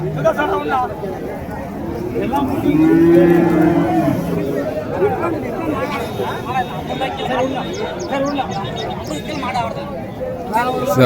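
Cattle and calves at the Matrapalli livestock market, where many young rearing calves are for sale, with one deep moo rising clearly near the middle over a constant hum of crowd chatter and bargaining voices.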